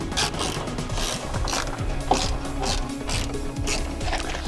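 A ratchet wrench backs out 10mm bolts from the bumper of a 2023 Toyota GR86, giving steady rapid clicking and rasping mechanical rhythm, close and continuous throughout.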